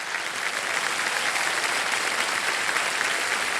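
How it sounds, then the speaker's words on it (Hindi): A studio audience on the quiz show Kaun Banega Crorepati applauds loudly and evenly, a thick wash of many hands clapping at once with no break across the whole stretch. "जोरदार तालियां बज जाए इनके लिए।"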